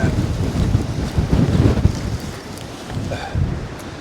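Strong Storm Darragh wind on the Dorset coast buffets and roars in uneven gusts, loud and close throughout, with deep rumbling surges and no voices.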